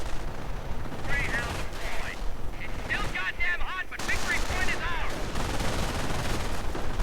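An MG42 machine gun fires in a multiplayer real-time strategy battle, its rapid bursts mixed with other gunfire and explosions in a dense, continuous battle din, with a commentator speaking over it.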